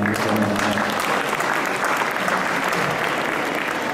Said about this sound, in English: please, a round of applause to Yavuz